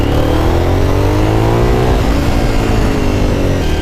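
A Suzuki SV1000 motorcycle accelerating hard on a rough road, its V-twin engine note climbing steadily through a loud, continuous revving roar with no voices.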